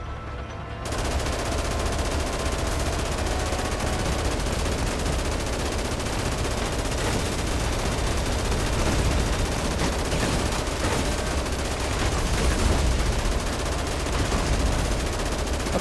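Rapid gunfire fills the Dead Rising Deluxe Remaster video game, a dense, loud, continuous barrage of automatic shots that starts abruptly and runs without pause throughout.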